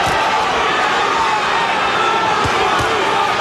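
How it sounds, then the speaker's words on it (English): Dense, loud roar of a boxing crowd in an arena chanting the fighter Johnny Tapia's name, a steady wash of massed voices with a few thumps. "Crowd chanting, Johnny, Johnny, Johnny."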